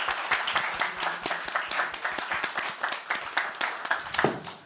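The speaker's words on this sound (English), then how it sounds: "Please give everybody on the stage a round of applause." Audience applause for people on stage after a talk on freedom of expression and hate speech, a steady run of many hands clapping at moderate distance for several seconds.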